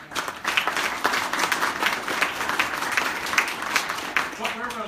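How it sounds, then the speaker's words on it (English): Audience applause at a Nashville Christmas parade press conference, dense steady clapping from a moderate crowd that holds for several seconds and fades slightly at the end. "We deserve another applause."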